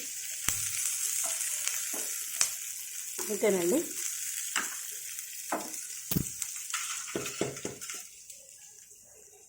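Chutney ingredients, including dried red chillies, fry in oil in a pan with a sizzling crackle and repeated sharp clinks and scrapes of a spoon against the metal, close up, with a brief spoken word near the end.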